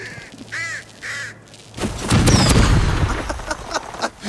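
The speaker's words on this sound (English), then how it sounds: "Yes! That was what we call kaboom." A bomb explodes in the video game Arizona Sunshine Remake, a loud, booming blast with a long rumbling tail that swells after a brief quiet stretch of cawing crow calls.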